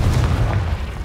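A deep, loud boom from a Confringo spell explosion in Hogwarts Legacy, one heavy low blast that rumbles and fades over about a second, with no talking.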